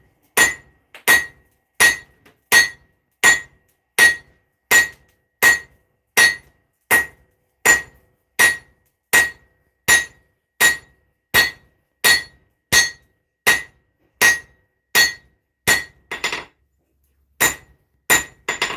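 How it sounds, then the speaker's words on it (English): Hammer blows ring out on hot steel over an anvil while a miniature Zangetsu blade is tapered, a steady run of about two dozen sharp metallic strikes in even rhythm, close and loud, with a brief scrape near the end. "Back to the anvil. Here we go. Let's start tapering it out some more."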